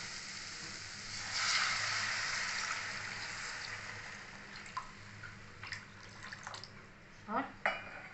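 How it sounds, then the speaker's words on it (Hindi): Water poured into a pan of fried masala for egg bhurji: a surge of hissing, bubbling liquid, then quieter simmering with a few sharp clinks of a utensil against the pan near the end. "अभी इसमें पानी डालेंगे।"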